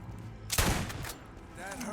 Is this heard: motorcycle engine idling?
no